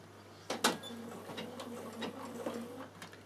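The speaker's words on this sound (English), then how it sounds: "I put my machine on full reverse, so now it's only going to sew in reverse" A Bernina sewing machine stitches in full reverse, a soft, steady mechanical whir with a few sharper clicks near the start, fairly quiet and alone.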